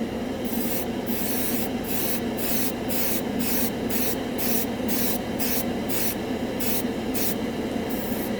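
An airbrush sprays pigment-rich gloss acrylic paint onto a scale model in short repeated bursts, a close steady hiss switching on and off in a regular rhythm with no talking.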